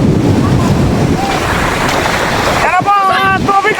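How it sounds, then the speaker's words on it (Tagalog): Strong floodwater waves rush and surge toward a hut in a continuous loud roar buffeting the microphone. Excited voices break in near the end. "Lakas ng alon!"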